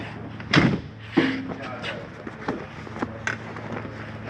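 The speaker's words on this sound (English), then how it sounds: "Close this door here." A travel trailer door on a 2022 Flagstaff Highwall 27KS swings shut with a firm thud near the mic, then a few lighter knocks and rattles as the latch and frame settle.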